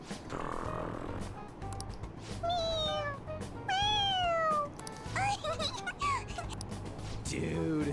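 Cat meowing in Persona 5 Royal, several drawn-out, rising and falling meows spaced across a few seconds, clear and up front, with soft game sounds and a low hum beneath.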